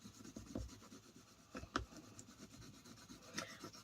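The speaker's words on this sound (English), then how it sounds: "just with a bone folder, gently just rub over" Bone folder rubbed gently over cling film laid on a paper design, giving a soft, close scratchy rubbing with a few sharper strokes, faint and continuous with no talk.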